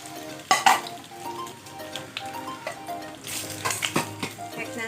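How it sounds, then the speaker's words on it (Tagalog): Chicken macau sausage frying in a pan, a steady close sizzle broken by scraping stirs and a couple of sharp utensil clacks against the pan. "iprito natin itong sausage or yung chicken macau"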